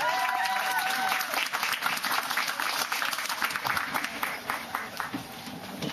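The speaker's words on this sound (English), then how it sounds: "Give a round of applause for Gerard Haizel." An audience claps warmly for a speaker being brought up, a dense round of applause at fairly close range that stays strong for about six seconds with slight swells.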